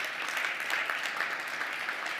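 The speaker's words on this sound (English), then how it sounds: "please an applause for both of them" Steady audience applause at a conference working session, an even stretch of clapping from a seated crowd with no talk over it.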